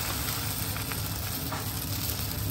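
Appam batter sizzles on a hot, oiled pan, a continuous close, even frying hiss with no talking.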